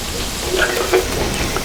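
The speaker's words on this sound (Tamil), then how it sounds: "இப்போ இது சிம்மில் வச்சுட்டு நம்ம ஃப்ரை பண்ணிக்கலாம்." Masala varki pastry fries in hot oil on a low flame, giving a close, steady sizzle and bubbling with small crackles and light stirring sounds.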